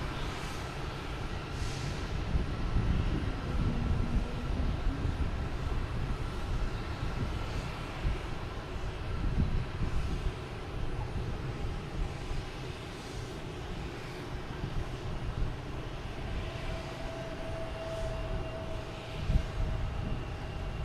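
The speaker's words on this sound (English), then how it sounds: "we have Delta heading to JFK. E175. Flight 5648." Steady broadband roar of a Delta Embraer E175 jet at Boston Logan Airport, held at a fairly even level throughout, with a faint whine and a few brief bumps in the rumble, no voices.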